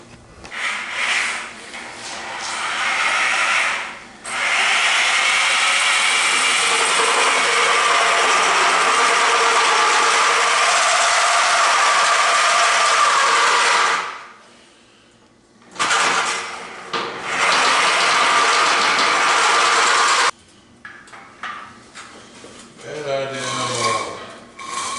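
Metal saw chopping through the steel frame rail of a 1927 Model T coupe rat rod chassis, a loud sustained grinding cut running in long stretches with short pauses between passes.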